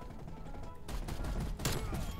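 Burst of rapid gunfire from a first-person shooter game, hip-fired through smoke at a stunned enemy, a dense rattling volley that swells partway through and stays loud to the end.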